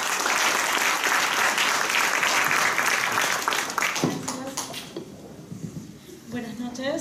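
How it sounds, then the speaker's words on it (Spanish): Audience applause for Romina Mela at a human rights defenders panel, broad and sustained clapping from a crowd that thins and tapers off toward the end, with a few scattered claps and a voice at the close. "fuertes palmas para Romina, por favor"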